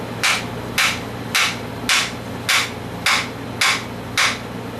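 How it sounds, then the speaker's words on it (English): A hammer taps on a metal part clamped in a vise, eight evenly spaced sharp strikes about two-thirds of a second apart, loud and close with no talking. "Look back in the vise and tappy on it until we get what we want here."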